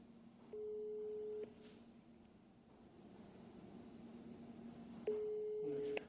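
Telephone ringback tone heard while placing a call: two long steady beeps, one near the start and another near the end, separated by a stretch of quiet line hiss.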